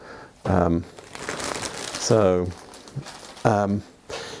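A sheet of paper from a book on English glass crinkles and rustles in short bursts between stretches of a nearby voice talking.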